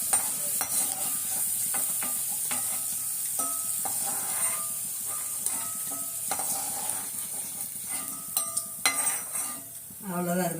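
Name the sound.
sautéing pirandai (adamant creeper) in a pan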